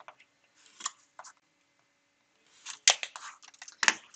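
Scissors trim a small piece of pink fabric for mini foundation paper piecing, giving a few crisp close snips scattered among quiet pauses, with several cuts clustered toward the end.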